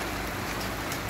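Rain falling steadily as a shower eases, a dense even hiss of drops filling the whole moment with no voices.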